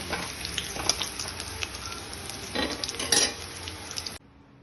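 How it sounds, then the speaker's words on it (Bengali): Fried potatoes sizzling in hot oil as they are stirred and lifted out with a utensil, steady crackle with occasional scraping clinks, ending abruptly in near silence. "আমার আলুগুলো ভাজা হয়ে গেছে, এবার আমি এইগুলো"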